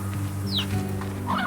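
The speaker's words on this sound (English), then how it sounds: "there's just a bunch of chickens down here" Chickens in the video game Slime Rancher cluck in short, soft bursts over a steady low ambient drone, close and moderately quiet.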